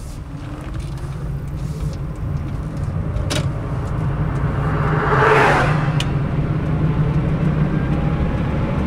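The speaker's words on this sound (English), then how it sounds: "put it in 4th, pull away from a stop in 4th gear and see how long it takes me to get to 30 miles an hour" An electric car pulls away from a stop in 4th gear, with a steady, loud road and motor drone that swells gradually as it gains speed.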